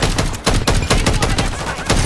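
Rapid automatic gunfire in a Call of Duty match, loud bursts with short gaps between them, steady and close, no talk over it.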